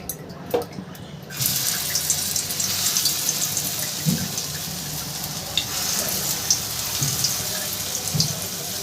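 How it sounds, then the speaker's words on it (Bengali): Small lentil fritters frying in hot mustard oil make a steady, close sizzle with occasional spatters and pops, after a brief quieter opening. "ছোট ছোট করে বড়া ভেজে নেব"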